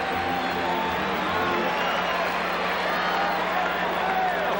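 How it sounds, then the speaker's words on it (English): Baseball stadium crowd at a 1985 World Series game, a steady loud murmur and cheer filling the park after McGee singles, continuous and broad with no breaks. "So that gets the crowd stirred up as McGee singles"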